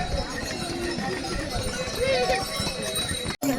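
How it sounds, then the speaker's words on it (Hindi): Horses clip-clop along the crowded Kedarnath pilgrimage path among porters and palanquin bearers, their hoof falls mixed into a dense bustle of footsteps and chatter, with voices talking nearby throughout. "इसमें घोड़े भी आ रहे हैं, पिट्ठू भी आ रहा है, पालकी वाला भी आ रहा है"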